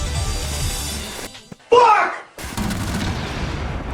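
Gunfire in the Rainbow Six Siege video game sounds as a short, loud burst in the middle, framed by game ambience and muffled voices talking before and after.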